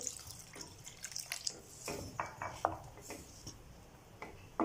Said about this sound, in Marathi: तेवढं पाणी घालू